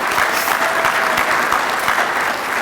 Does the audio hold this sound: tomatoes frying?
no